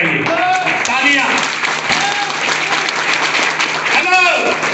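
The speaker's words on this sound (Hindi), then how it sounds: "आपकी तालियां बोलनी चाहिए। तालियां।" Sustained audience applause fills a large hall at an RCM Business motivational seminar, dense and steady throughout, with voices and shouts rising over the clapping.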